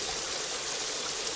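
A waterfall pours over rock, heard as a soft, steady broadband rush of falling water that stays even and unbroken for the whole short stretch.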